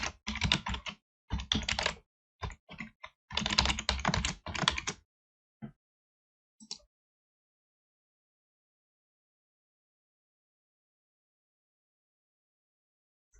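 Account details are typed on a computer keyboard in quick bursts of close, crisp key clicks with short pauses, then a couple of isolated presses before silence.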